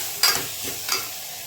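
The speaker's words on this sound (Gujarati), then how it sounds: "હવે તેને આપણે મિક્સ કરી દેશું. સરસ 2 મિનિટ મિક્સ કરવાનું છે આમાં આપણે તેલમાં." Potatoes with peanuts and salt are stirred in oil for a fasting dish: two quick scraping strokes over a soft, faint sizzle, heard briefly and alone.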